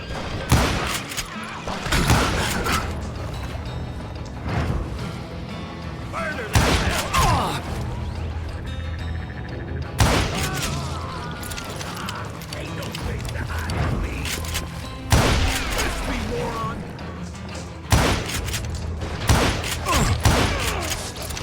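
Sharp gunshots burst out repeatedly in Call of Juarez: Gunslinger, loud cracks spaced a few seconds apart amid rattling mechanical clatter and thumps, as outlaws fire down from above.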